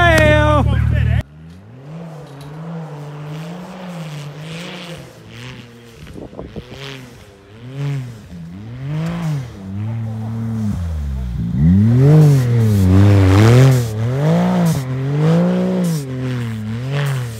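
A 200-horsepower Can-Am Maverick X3 side-by-side racing around a figure-eight snow drift track, its engine revving in repeated rising and falling surges that grow louder toward the end, with a voice talking over it.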